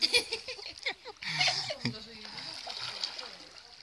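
Water splashes and sloshes in an outdoor hot pool surrounded by snow in freezing weather, close, irregular bursts mixed with voices talking and laughing.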